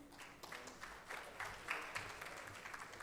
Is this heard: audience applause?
yes